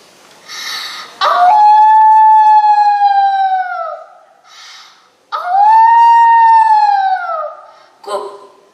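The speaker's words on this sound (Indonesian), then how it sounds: "ada sesosok anjing berwarna hitam berdiri menghadap Sapundu dan melolong panjang" A black dog howling long, as a storytelling sound effect: two drawn-out, loud, close howls that rise and then slowly fall, with short breathy sounds before, between and after them.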